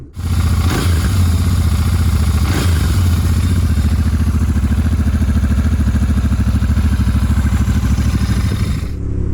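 A Royal Enfield Interceptor 650 motorcycle engine runs close and loud, its vintage, mechanical intake rattling steadily with a couple of brief revs early on before cutting off near the end.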